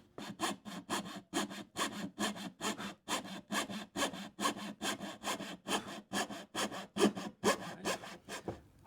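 Steady back-and-forth strokes of a file on wood while squaring a violin part, about twenty even rasping passes in quick regular rhythm, close and fairly loud with nothing else heard.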